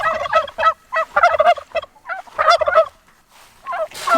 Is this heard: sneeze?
no